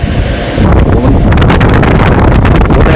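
A powerful ventilation blower fan runs at a market, making a loud, close, steady rushing roar with gusty wind buffeting against the microphone throughout.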